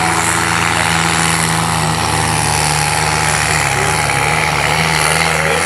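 A heavily smoking tractor roars off the line at the start of a tractor pulling run at Lehmann Agrotechnika 2016, its loud engine holding a thick, steady drone for the whole stretch.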